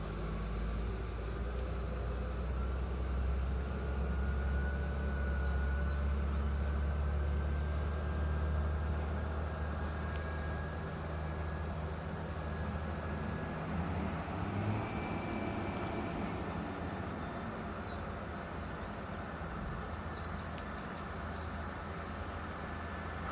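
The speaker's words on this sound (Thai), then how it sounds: "เสียงเร่งเครื่องครับ หรือว่ามีปัญหาอะไรนี่ หรือว่ารถมีปัญหา" A heavy Hino truck engine drones at a low, steady rumble nearby while reversing down a slope, its pitch rising slightly partway through before settling again.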